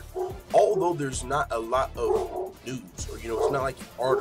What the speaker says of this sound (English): Sorry that my dogs are fucking going crazy.